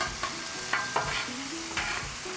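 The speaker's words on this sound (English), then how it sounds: "We're gonna start cooking on our eggs." Eggs frying on a Blackstone griddle at a campsite breakfast, with a steady sizzle under a few scraping, stirring knocks of a spatula, moderately close.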